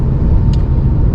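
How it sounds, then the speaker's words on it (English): Perodua Ativa engine restarting through auto start-stop, heard from inside the cabin as a steady, muffled low rumble with a faint brief click partway through. "yes, you can hear the engine cranking up, but the vibrations are rather well isolated"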